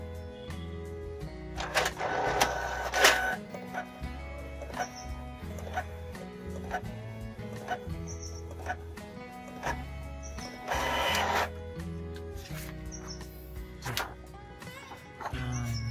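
A Canon MG2570S inkjet printer runs a nozzle check, giving a steady mechanical whir with repeated clicks and rhythmic carriage shuttling, plus a couple of louder rattling passes.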